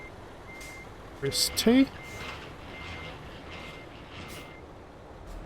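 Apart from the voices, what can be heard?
truck reversing beeps in video game Euro Truck Simulator 2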